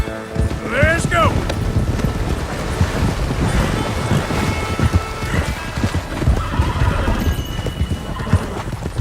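A Mustang horse in the Red Dead video game gallops with steady, rapid hoofbeats against gusting wind, letting out one sharp whinny near the start, with a voice speaking over it at times.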